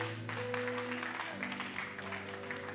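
Congregation applauding during a French-language church sermon, a steady dense wash of clapping sustained throughout, with a low musical tone and some voices underneath.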